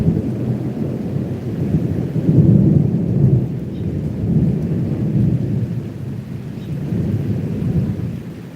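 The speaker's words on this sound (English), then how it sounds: "I haven't heard the thunder yet, though." Thunder from a storm in Cuba rolls as a deep, sustained low rumble swelling and fading in waves, loud and continuous with a faint rain hiss behind it.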